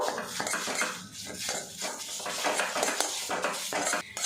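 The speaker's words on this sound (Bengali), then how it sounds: "খুন্তি দিয়ে অনবরত নাড়াচাড়া করে ভাজা ভাজা করে নেব।" A metal spatula scrapes and clinks continuously against a pan, stirring chana dal paste as it fries, busy stirring noise with no talking.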